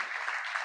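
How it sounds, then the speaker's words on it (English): Short burst of audience applause at a live insurance talk event, a thin, even patter of clapping heard faintly and alone. "we can give them a round of applause"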